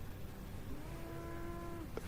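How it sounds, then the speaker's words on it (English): A cow lows in one sustained, steady call that ends abruptly, heard at moderate distance over a quiet outdoor background. "That cow is way louder than that drone."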